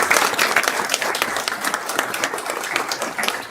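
An audience at a city council meeting gives a round of applause, with brisk, lively clapping from a modest crowd that stays fairly loud and steady throughout, free of speech.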